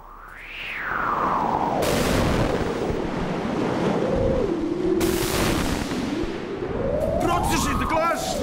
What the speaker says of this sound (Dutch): De storm smijt het zeewater in grote golven omhoog.